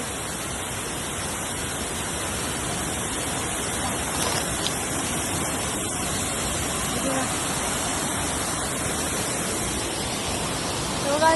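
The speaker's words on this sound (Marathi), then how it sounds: "आणि हा बघा, हा धबधबा." A dense, constant roar of rushing water from a waterfall at Chafnath, Sangmeshwar, loud and unbroken throughout.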